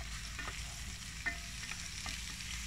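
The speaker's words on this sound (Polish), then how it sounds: "Mamy na patelni mięso, czosnek, cebulę krojoną na takie wielkie kawałki i chili. I zaczynamy smażyć." Meat, garlic, large chunks of onion and chili fry in a pan over an outdoor cooking setup in Georgia, making a steady, dense sizzle with a few faint scraping stirs and no talk.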